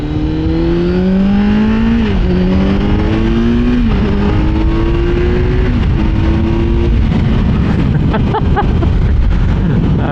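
A 2024 Kawasaki Z900 with a 948 cc inline-four engine pulls hard down a straightaway, its loud engine note climbing through several gears with short dips at each shift, close and continuous throughout.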